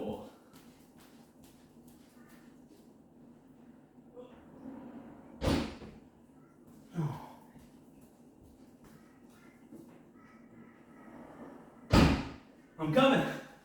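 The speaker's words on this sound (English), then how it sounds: "Close that door." Several sharp bangs of a door shutting ring out at intervals over a low rumbling background, with soft talking in places.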